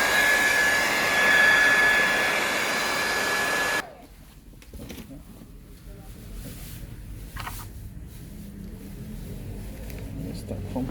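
A heat gun blows steadily and loudly on a Samsung SM-T280 tablet screen for about four seconds, then cuts off, leaving quieter room noise with faint handling sounds.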